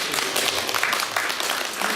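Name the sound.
congregation clapping during church worship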